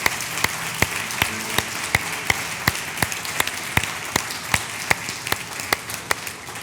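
A church congregation claps in a slow, loud unison rhythm of sharp, evenly spaced claps, roughly two per second, over a low murmur of the crowd.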